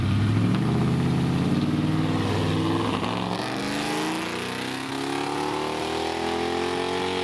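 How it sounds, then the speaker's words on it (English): A supercharged 1963 Studebaker Avanti R2 with a 289 engine runs at a drag strip: a loud, sustained roar whose pitch climbs steadily as it accelerates hard, with a brief dip partway through. "63 Avanti with the 289 Studebaker engine. This is an R2, meaning it is supercharged."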